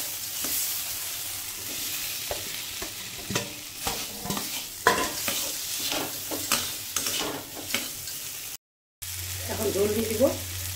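Potatoes frying and being stirred into a spice paste for a vegetarian chhanar dhokar dalna, with a steady close sizzle and repeated scraping stirs, then a brief break before the frying resumes.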